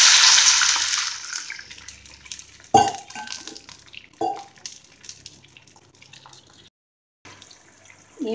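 Half a cup of water is poured into a pan of fried red chillies, giving a loud splashing burst and hiss that fades into quieter dripping and bubbling, with a few sharp splashes and a brief silence.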